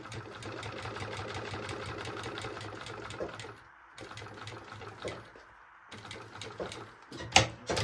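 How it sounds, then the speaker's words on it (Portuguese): A sewing machine stitches along the edge of a maternity bag in steady, close, rapid runs, pausing briefly twice before starting again. "Pode costurar bem na beiradinha."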